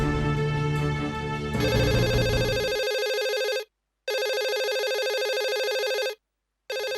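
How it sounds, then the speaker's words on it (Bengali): A telephone rings loudly in a home, a bright electronic ringtone repeating in bursts with two short silent gaps between rings, heard alone without talk. "নিশ্চয়ই মায়ের ফোন। দেখো দেখো দেখো, ধরো ধরো, তাড়াতাড়ি ধরো।"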